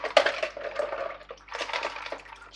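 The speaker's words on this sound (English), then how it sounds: "Just give that a nice thorough rinse" Filter media being rinsed in aquarium water, close splashing and swishing of water with irregular bursts and sloshes over a few seconds, no talking.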